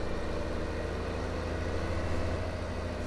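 A New Holland tractor engine warming up in Farming Simulator 2015, idling as a steady, even low rumble with a continuous drone and no talk.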